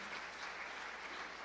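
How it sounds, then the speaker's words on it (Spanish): Congregation applauding in a Pentecostal church during a Sunday school service, a soft, continuous patter of many hands heard briefly and fairly distant. "Dele fuerte aplauso al Señor."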